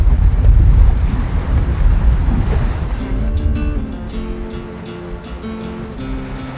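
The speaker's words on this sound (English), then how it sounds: "So the winds are up to 26 knots true." Strong wind of about 26 knots roars across the microphone of a sailboat beating upwind in the Tuamotus, with waves of 6 to 9 feet crashing and rushing against the hull, loud and continuous.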